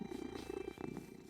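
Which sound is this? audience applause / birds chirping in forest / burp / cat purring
cat purring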